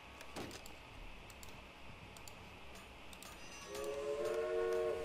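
A train rolls along in the Railway Empire video game, with faint ticking clicks from the track and then a sustained horn blast that sounds loud and near in the last second.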